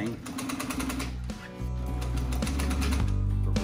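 A sewing machine runs fast through a butt seam, a steady rapid stitching chatter that pauses briefly before resuming, with someone talking over it.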